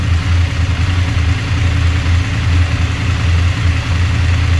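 A BMW F850GS 40th anniversary edition motorcycle idles close by with a steady, even low rumble throughout, with no talk.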